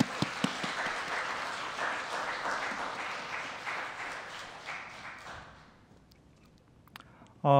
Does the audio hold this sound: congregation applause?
yes